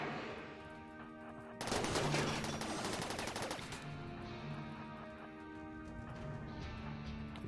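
Rapid bursts of automatic gunfire in the video game RimWorld, a dense rattling volley lasting about two seconds over a steady game music and ambience bed, then tapering off.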